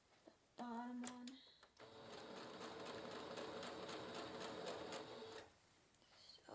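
A sewing machine runs steadily for about four seconds, stitching the straight bottom seam of a cross-stitch project bag, with brief quiet handling before and after the run.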